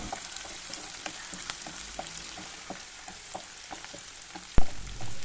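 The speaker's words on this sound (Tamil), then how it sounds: "வெங்காயம் வந்து நல்லா பொன்னிறமாக வதங்கட்டும்." Onions sautéing in a pan for a vegetable and spring onion poriyal, a soft continuous sizzle broken by light spatula scrapes and taps, with one louder knock near the end; no one speaks.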